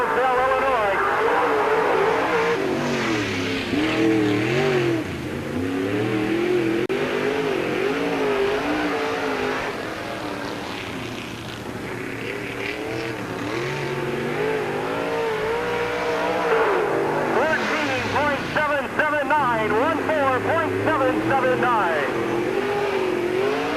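A race car on a qualifying lap at Peoria Speedway, engine note swelling and fading around the oval in a continuous drone, while an announcer talks over it.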